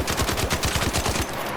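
The Tempest weapon in the video game ARC Raiders fires a rapid automatic burst of about a dozen evenly spaced loud shots, close and punchy, then stops abruptly, with no speech.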